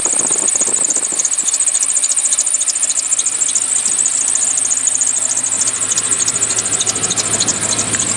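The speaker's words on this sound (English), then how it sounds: "Pretty sure that squeal is the belt tensioner." A 1994 Chevy truck engine runs with a worn belt tensioner, and a continuous high, piercing squeal rides over the low idle rumble throughout.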